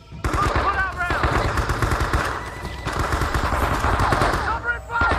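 Rapid machine gun fire in a Vietnam-era combat video game, Men of Valor, loud and nearly continuous bursts close up, with shouted voices and battlefield noise mixed in.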